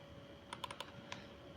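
Computer mouse double-clicked during a cat-themed game: a few sharp, crisp clicks in quick pairs, fairly close and clear over a quiet background hum.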